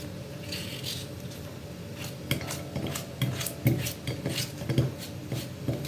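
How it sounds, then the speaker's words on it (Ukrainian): Soft, irregular knife strikes and wet clinks as potatoes are chopped into cubes straight from a bowl of water, close by, over a quiet background hum. "починаю я кришити ось прям із миски, отак з води кришити я картоплю"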